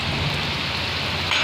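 Heavy rain pours steadily as a dense, continuous hiss, loud and close, with no pauses.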